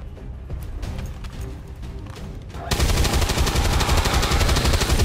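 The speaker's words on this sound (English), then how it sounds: "I have to take this shot." Gunfire in the video game XCOM 2 erupts after a quieter stretch, a loud sustained rattling volley of shots dominating the second half.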